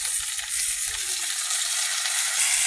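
Beans frying in hot oil with cumin and nigella seeds: a steady, bright sizzle with soft stirring clatter underneath, close and continuous throughout.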